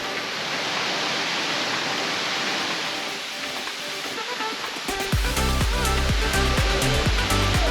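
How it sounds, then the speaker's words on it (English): Waterfall at Silver Falls State Park, Oregon, along the Trail of 10 Falls: a steady, loud broadband roar of falling water that holds throughout, with louder rhythmic sounds cutting in over the last few seconds. "The Trail of 10 Falls, as its name suggests, takes you past and even behind some of the 10 waterfalls."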